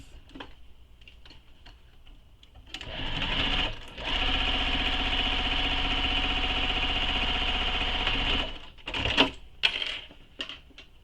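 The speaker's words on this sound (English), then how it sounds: "And now I'm going to stitch the bottom in place." A sewing machine stitching the bottom of a fabric quiver sling: a few light clicks, then one steady, close, loud mechanical whirr lasting about six seconds, ending with more ticks and clunks.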